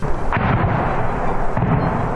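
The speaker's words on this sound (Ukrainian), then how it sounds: "Посеред білого дня противник почав обстріл передових позицій." Artillery shells strike front-line positions in the industrial zone of Avdiivka in broad daylight, a loud continuous rumble with repeated heavy booms and blasts and no pause.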